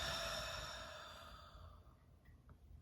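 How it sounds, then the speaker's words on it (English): A single slow, deep exhale during meditation, a close airy sigh that fades away over about two seconds, followed by quiet room tone. "start to take a slow, deep breath in. And you decide when to exhale it out."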